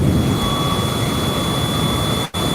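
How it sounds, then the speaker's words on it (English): An electric fan running on high in a hot room gives a loud, steady broadband whoosh with a faint constant whine, close to the microphone and briefly dipping near the end. "I got my fan going, and like my fan is on high."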